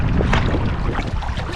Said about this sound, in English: Really nice paddling now.